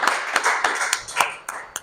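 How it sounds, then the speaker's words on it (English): A few audience members at a leadership talk event clap for first-time attendees, a short burst of separate, uneven hand claps, close and fairly loud, fading after a couple of seconds. "Can you clap hands for them?"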